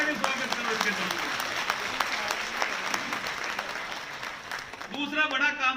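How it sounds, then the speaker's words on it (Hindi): Applause at a Law Day event at the Supreme Court, greeting a birthday: dense steady clapping from a large audience runs throughout at moderate level, and a speaking voice returns near the end. "जोरदार ताली बजा के स्वागत करो इनके जन्मदिन"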